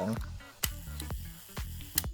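A Yashica Flex twin-lens reflex camera shutter fired at a 1-second speed and f/22, heard as a few sharp, close mechanical clicks spaced apart in a quiet room.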